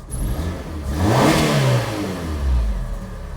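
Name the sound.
Ford Ka car engine revving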